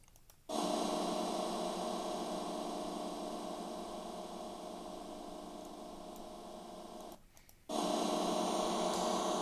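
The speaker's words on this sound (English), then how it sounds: "we have a sustaining householder reverb" A sustained, dense reverb wash from the Airwindows Dual Matrix Reverb plugin at a large room size, holding steady for several seconds, cutting out briefly, then resuming at full level.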